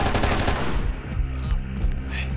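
Rapid automatic gunfire from the action game Oni, a near, loud burst of shots firing in quick succession almost without pause, with denser rattling bursts throughout.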